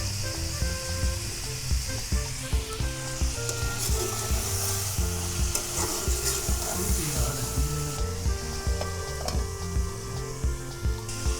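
Half a kilo of chicken with three to four chopped tomatoes hisses and sizzles steadily in a karahi, a dense continuous frying sound with faint stirring clicks throughout and no voices.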